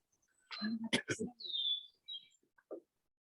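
Birds singing outdoors: a few scattered chirps and a thin whistled note, fairly faint, mixed in with brief talk.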